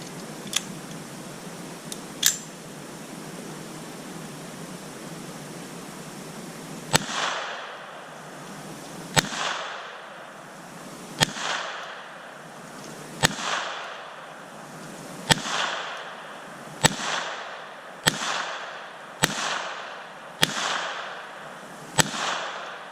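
.22 pistol shots, from a Ruger SR22 or Smith and Wesson Victory, crack out as sharp, isolated reports: a couple early, then a steady string of about a dozen shots spaced roughly one to two seconds apart.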